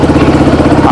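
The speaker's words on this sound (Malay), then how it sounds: "Alright, so ini bunyi idling dia." A KTNS TT150 Classic scrambler motorcycle engine idling close by, a steady, throbbing low rumble with an even pulsing rhythm.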